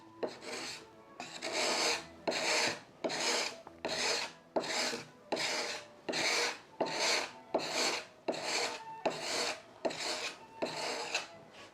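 Surplus wood filler being scraped off a door under restoration, about fourteen regular rasping strokes in a steady back-and-forth rhythm, close and fairly quiet, with no voices.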